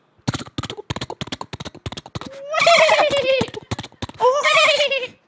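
A person imitates a goat's bleat with two long, wavering cries, set between bursts of quick close talking and laughter.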